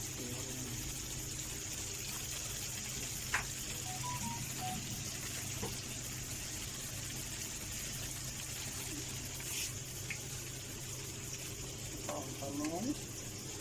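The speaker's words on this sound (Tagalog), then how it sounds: "So, prito, hindi siya tumatalsik kasi meron siyang harina." Eggplant slices coated in flour batter fry in hot oil, a steady low sizzle running throughout with faint clinks of utensils now and then.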